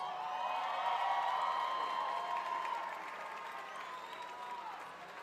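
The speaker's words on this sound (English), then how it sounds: "give them a round of applause" High school graduates at a commencement ceremony applaud their families, a broad distant wash of clapping and light cheering from a large crowd that slowly fades.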